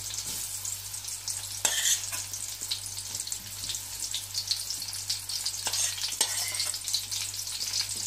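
Mushrooms sizzle steadily in a pan over a low flame while occasional soft stirring scrapes cut through the even hiss, with no talking.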